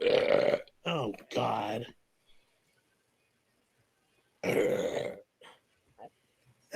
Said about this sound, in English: He can't control the goddamn burps